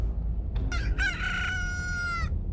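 Chickens crow and cluck as a short stream alert sound effect, with a couple of quick clucks followed by a long, loud rooster crow that holds steady before stopping.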